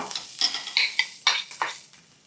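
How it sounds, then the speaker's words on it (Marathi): Boiled potatoes tipped into a hot tempering and stirred, giving a run of quick, close scraping and clattering bursts roughly every quarter second with a soft sizzle underneath, then fading out. "चला, आता हे या फोडणीमध्ये घालायचं"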